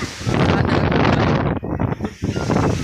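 Loud, gusty cyclone wind roars and buffets the microphone, surging strongly with brief dips, tree leaves rustling under the blast.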